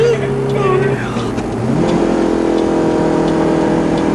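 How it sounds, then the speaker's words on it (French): A car engine revs and pulls hard while overtaking on a downhill stretch in a French TV commercial, with rising, shifting engine tones under a voice speaking throughout. "Bon, en descente, je devrais réussir à le doubler quand même."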